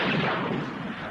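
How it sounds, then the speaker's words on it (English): A gunshot in a 1966 film, heard as a loud, broad burst with a rumbling tail that fades across about a second. "I heard a shot."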